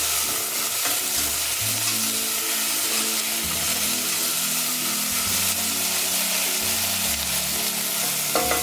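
Vegetables cook in a pan with a steady, close, continuous sizzle and crackle, plus occasional stirring scrapes. No one talks.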